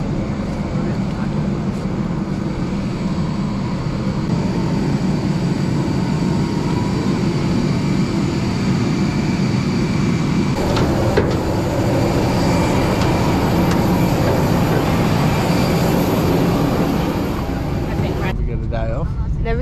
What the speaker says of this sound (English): First time on a plane, going to Sydney.